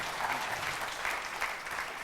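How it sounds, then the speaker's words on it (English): A conference audience applauds panelists at the close of a panel session, a dense, even patter of many hands held at a moderate, slightly distant level for the whole two seconds. "Let's give them all a round of applause"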